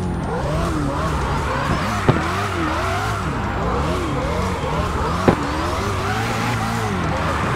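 A Mitsubishi Lancer Evo X race car engine in the video game CarX Drift Racing Online revs and whines through gear changes, with a couple of sharp exhaust backfire pops standing out against the continuous roar.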